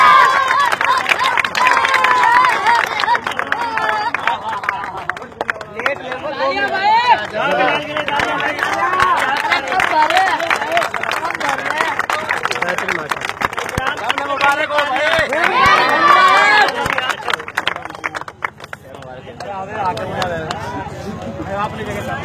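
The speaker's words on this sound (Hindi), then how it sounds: "मोहम्मद बिलाल लास्ट ओवर बिलाल के लिए तालियां" Crowd at an outdoor cricket tournament applauding and cheering for bowler Mohammad Bilal after the last over, a dense continuous roar of claps and voices with an announcer talking over it.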